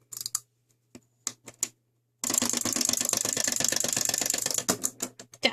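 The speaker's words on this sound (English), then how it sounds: "You wind up your bowling ball." 1980s TOMY wind-up bowling toy being wound: a few scattered clicks, then a rapid, steady ratcheting whir of the plastic winding mechanism lasting a couple of seconds, close and alone, ending in a few more clicks.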